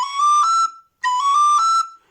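Two bright, clear phrases on a descant recorder, each a quick triplet figure from an Irish hornpipe ending in a held note, separated by a short pause and played alone.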